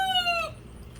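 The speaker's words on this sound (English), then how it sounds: "that's my young rooster." A young backyard rooster lets out a single short, strained crow, a bright squeaky call that slides downward and breaks off after half a second, then fades into quiet coop ambience.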